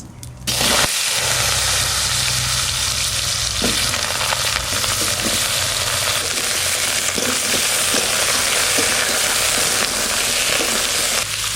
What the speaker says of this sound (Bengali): জিরে ফোড়ন দিয়ে দেবো।